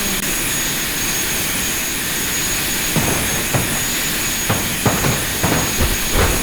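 A jet airplane engine roars steadily in the BeamNG.drive driving game, a loud continuous whine and rumble with a few heavier thumps toward the end and no talk.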